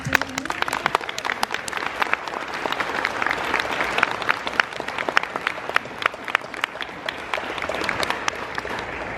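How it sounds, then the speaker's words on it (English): Fan convention panel audience applauding, a crowd of sharp individual claps rising into a steady, lively patter that carries on for the full length. "Ziggy, may you stand up and let everyone applause?"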